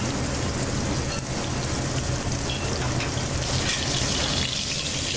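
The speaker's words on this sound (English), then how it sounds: "Get a nice sear on it." Short rib seasoned with house seasoning sears in a hot pot, a steady loud broadband sizzle and crackle running unbroken throughout with no talk.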